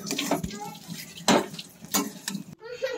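Tamarind leaf chutney stirred in a kadhai, with metal spoon scraping and clinking against the pan over a soft sizzle, a few sharp knocks, and a brief voice.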